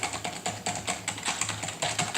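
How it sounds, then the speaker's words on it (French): Rapid typing on a regular keyboard connected to an Android device by an OTG cable, with quick, uneven bursts of clicky keystrokes close to the mic and no one talking. "ça permet donc de taper du texte avec un clavier régulier sur un appareil Android"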